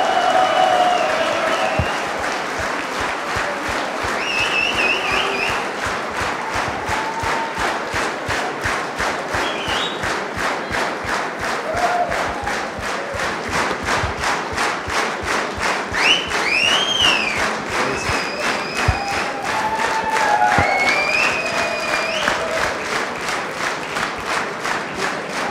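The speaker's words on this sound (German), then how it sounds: "Ralf, das ist dein Beifall" Sustained rhythmic applause from a crowd at a Dynamo Dresden promotion celebration at the Parkhotel, steady clapping in time with occasional whistles and cheers rising above, loud and continuous for the full stretch.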